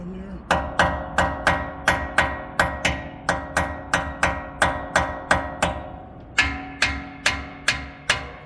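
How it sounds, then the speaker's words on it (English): Sharp, ringing metal-on-metal hammer blows on a Bentley Bentayga front brake rotor, about sixteen in a steady rhythm with a brief pause near the end. "I get my hammer, I come in there."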